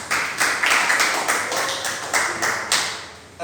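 A classroom group claps after a student group presentation, a short burst of applause in uneven pulses lasting a few seconds, with a faint voice underneath.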